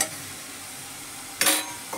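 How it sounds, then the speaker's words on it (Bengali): Spiced masala sizzles steadily in a pan as fried potato and cauliflower are added near the end, bringing a short, brighter burst of crackling and stirring, close and moderately quiet with no talking. "তো এবার আমি যে আলু ফুলকপিটা ভেজে রেখেছি সেগুলো এর মধ্যে দিয়ে দেব।"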